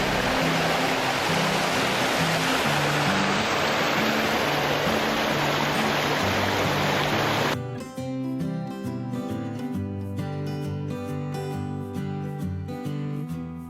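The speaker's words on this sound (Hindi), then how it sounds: "जो झारखंड का सबसे ऊंचा फॉल है। यह 468 फीट की ऊंचाई से गिरता है।" Budha Ghagh waterfall in Netarhat, Jharkhand, the state's highest fall dropping 468 feet, heard as a steady, loud roar of rushing water, later joined by music that carries on over the continuing water.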